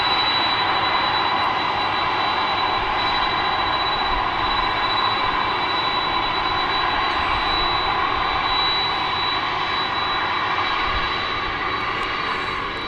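At night at DFW Airport, a UPS Boeing 767 runs its jet engines in a steady, sustained roar with a thin high whine on top, holding at an even level from start to finish.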